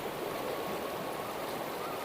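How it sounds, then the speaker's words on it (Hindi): Waterfall tumbling through the Chitrakoot forest at Janki Kund, a steady close rush of falling water that fills the whole moment without a break, with no voices over it. "और ये झरना देखिए आप"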